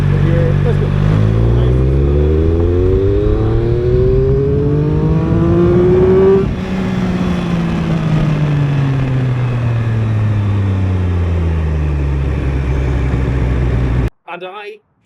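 A Triumph Speed Triple 1200 RR motorcycle pulls hard in third gear, its loud engine note rising steadily in pitch, then easing and falling away before cutting off near the end.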